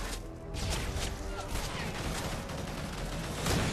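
Rocket launcher fire and explosions in Modern Warfare 3 Spec Ops co-op combat, a dense, loud wash of blasts and gunfire rumbling continuously with sharp bursts, with people talking underneath.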